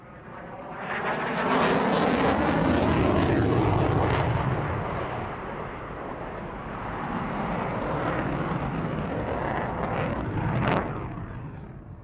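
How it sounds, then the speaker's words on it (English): Loud, continuous roar of a Eurofighter Typhoon's twin Eurojet EJ200 jet engines, swelling and rumbling deeply for several seconds with a crackling edge, then easing slightly. "what you're hearing there, and probably more likely feeling, are two Eurojet EJ200 engines"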